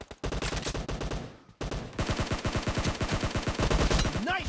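Rapid bursts of automatic gunfire from the battle royale game PUBG, loud and close, firing in quick rhythmic volleys with a brief pause before a second long stretch of sustained shooting.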